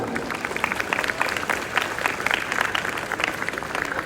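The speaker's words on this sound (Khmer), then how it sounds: "សូមអង្គពិធីទាំងមូលមេត្តាអបអរសាទរ" An audience applauds the arrival of Cambodian Prime Minister Hun Manet at a Ramadan Islamic community gathering in Cambodia, with brisk, sustained clapping from a large crowd at even volume throughout.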